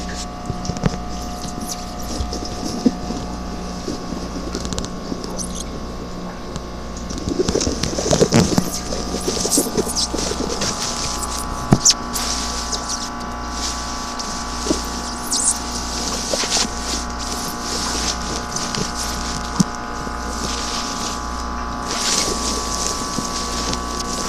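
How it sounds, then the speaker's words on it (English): Home aquarium filters and pumps hum steadily in the room while water bubbles and trickles continuously, with a low mechanical drone under faint splashing and a brief louder burst of water. "see if people like the steady bubbling and noise of the water and the filters and everything"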